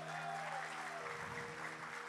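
Congregation applauding in church during a sermon, a faint, steady wash of clapping heard from a distance under a sustained tone, low in level throughout.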